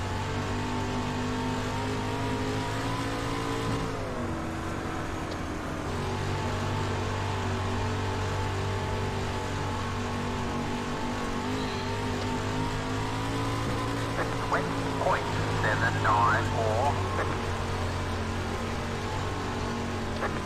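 Street stock race cars roar around Volusia Speedway Park in a race, their engines droning and revving continuously as several cars run close together, with the pitch shifting as they accelerate and pass.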